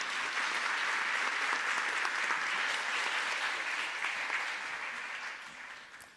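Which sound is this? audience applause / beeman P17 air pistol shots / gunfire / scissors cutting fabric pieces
audience applause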